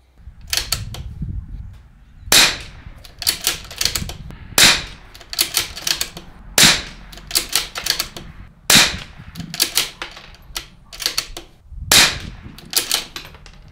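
Rifle shots fired during a scope test ring out as several sharp, loud cracks spaced a couple of seconds apart, with quieter mechanical clicks and clatter of working the action in between.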